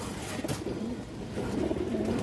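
Large pigeons coo steadily in a loft, several low rolling calls overlapping close by, with no talk.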